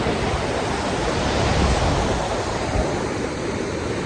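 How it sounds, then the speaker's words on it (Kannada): River water rushes across a crossing near the Doddametrai Shiva temple close to Hosur in Krishnagiri, Tamil Nadu. It makes a loud, unbroken roar that stays close and even throughout, with no voices. "ನೋಡಿ ಇಷ್ಟು ನೀರು ಹರಿತಾ ಇದೆ."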